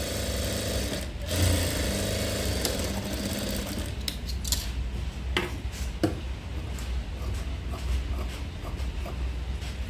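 A sewing machine runs steadily while stitching a maggam work blouse, its dense mechanical whirr continuous across the whole stretch with a few sharper clicks and taps mixed in, close and moderately loud.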